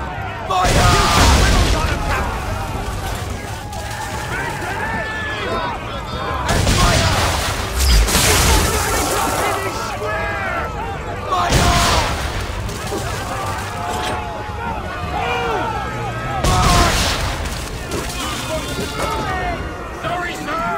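Thunderous broadside cannon volleys from sailing warships in Assassin's Creed 3, heavy booming salvos recurring every few seconds over roaring sea-battle noise, with crew voices yelling throughout.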